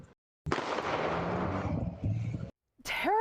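A loud, sustained burst of rapid gunfire from an exchange of shots in Washington, DC, in broad daylight, cracks for about two seconds and cuts off abruptly, followed by a brief distorted electronic tone.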